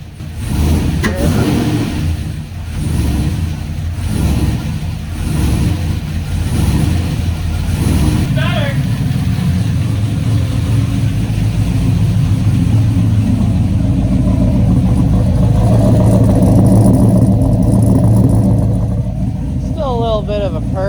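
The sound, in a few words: Chevrolet TrailBlazer SS with PRC heads, Texas Speed cam driving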